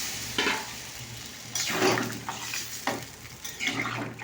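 Water pours into a hot cooking pan, bursts of splashing and sizzling with clinks of a utensil against the pan, close and fairly quiet, no talking.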